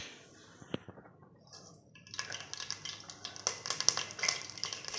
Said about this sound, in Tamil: கடுகு வந்துட்டு நல்லா பொரிஞ்சிடுச்சு